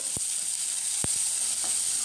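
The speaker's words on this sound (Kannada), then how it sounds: "ಎಲ್ಲ ಈಗ ಒಗ್ಗರಣೆಯಲ್ಲಿ ಬಾಡ್ಕೊಳ್ತಾ ಇದೆ, ಬೇಯ್ತಾ ಇದೆ" A soft, steady sizzle of grated raw mango cooking in hot tempering oil, with a couple of faint taps from a utensil.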